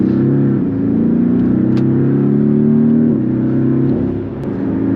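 Porsche 718 Cayman engine revs loudly up close, a strong droning note that climbs steadily, dips at a shift, then climbs again and settles, with no talk over it.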